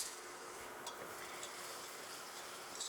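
Milk and heavy cream being whisked into a browned flour roux over a woodfire, a steady soft swishing and faint sizzle running continuously at low level with no voices.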